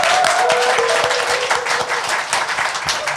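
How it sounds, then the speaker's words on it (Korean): A studio audience bursts into loud, sustained applause at the opening of a Korean current-affairs talk show, dense clapping filling the room from start to finish. "여러분의 힘찬 박수와 함께 시작하겠습니다"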